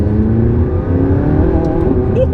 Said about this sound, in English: there's a sort of crack about it, a slight whip crack on the upshifts